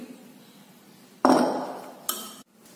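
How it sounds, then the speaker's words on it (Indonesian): Beef balado with purple eggplant is stirred in a pan, producing two sharp metallic clanks and a scraping rush from the utensil against the pan after a quiet stretch, without speech. "Kita aduk seperti ini."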